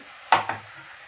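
Spice masala for doi katla fish being stirred in a hot pan, a short close sizzle with two quick stirring scrapes before it settles into a faint fry.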